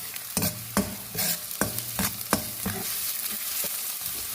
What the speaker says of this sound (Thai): คนค่ะ